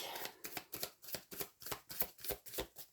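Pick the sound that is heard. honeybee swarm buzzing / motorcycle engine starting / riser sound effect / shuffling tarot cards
shuffling tarot cards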